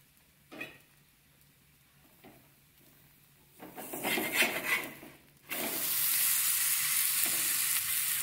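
Assamese moruwa flour roti frying in a pan, a faint soft sizzle with a few scraping stirs that swells into a steady, louder hiss toward the end.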